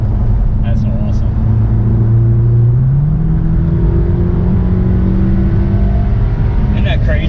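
A Volkswagen 4-cylinder car launches under factory launch control, its engine droning loud and close as the pitch climbs steadily through the run, with voices talking over the cabin noise.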